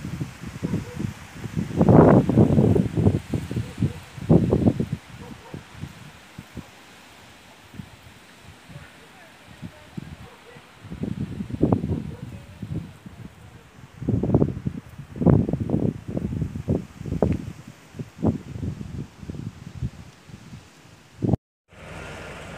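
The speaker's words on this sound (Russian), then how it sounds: "Ветер какой сильный." Strong gusts roar through trees in surging waves, leaves rustling loudly, with calmer stretches between the bursts.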